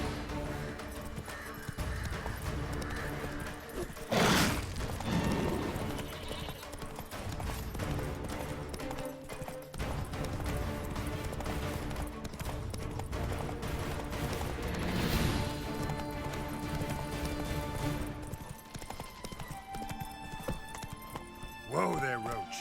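Roach the horse gallops in The Witcher 3, with rapid, continuous clip-clop hoofbeats close by and a couple of louder impacts, while a voice speaks over the sound.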